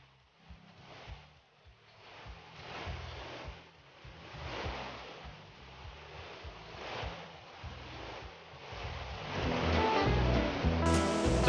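Rushing water on the Athabasca River, a broad continuous surf-like roar swelling in waves and growing louder toward the end, with no voices.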